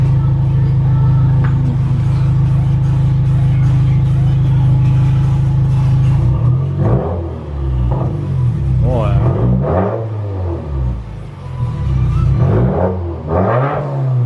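A 2019 Subaru WRX with a muffler delete idles after a warm start, its loud, raw exhaust drone steady at first, then rising and falling through several throttle blips as people talk nearby.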